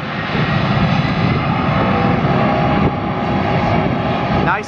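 A jet engine roars loudly and steadily as a Boeing 757-200 airliner takes off at Atlanta airport, a broad rushing drone that stays close and powerful throughout.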